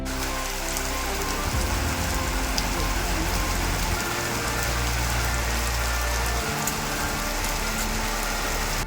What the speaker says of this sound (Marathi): काही वेळातच पावसाला सुरुवात झाली